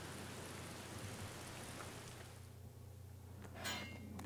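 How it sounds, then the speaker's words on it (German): Steady rain falls at a castle stable in the video game Black Mirror, a constant even hiss with brief faint clinks near the end, heard alone without talk. "Und hier regnet es natürlich immer noch."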